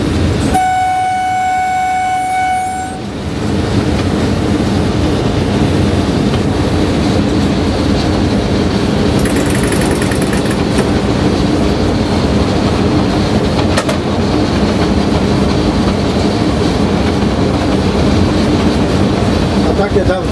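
A train runs steadily along the line, a loud continuous rumble with rail noise throughout, opening with a brief sustained horn-like tone before the rolling roar takes over.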